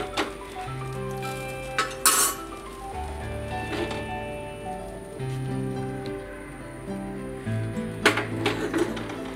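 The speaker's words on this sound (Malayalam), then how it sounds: "സ്പൂണിട്ട് ഒന്ന് ഇളക്കിയിട്ട് പതുക്കെ അതിനെ ഒന്ന് ചുറ്റിച്ചെടുക്കണം" A spoon stirs sardine fish curry with added thick coconut milk in a metal pot, giving scattered light clinks and scrapes over a low steady background hum, with no talk.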